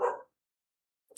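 A single short bark from a pet dog indoors, faint and brief, followed by silence.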